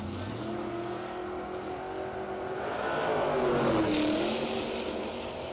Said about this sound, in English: Dominique's in the 67 Camaro. Nunley over here in the 94 Camaro